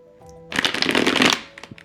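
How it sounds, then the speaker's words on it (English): Tarot cards shuffled briskly in a dense riffling burst lasting about a second, close and fairly loud, with a few soft card taps before and after. "So I'm going to cut the deck in a moment"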